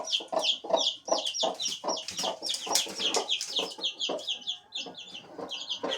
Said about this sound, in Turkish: Burada bir tane daha tavuğumuz yatıyor.